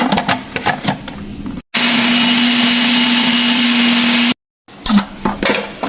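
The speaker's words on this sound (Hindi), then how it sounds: "ये सबसे पहले चॉपर में डालेंगे। इसको ग्राइंड करेंगे।" An electric kitchen chopper grinds coriander, four chillies and a large onion, a steady loud motor whine running for about three seconds between quiet pauses and clatter, with no talking.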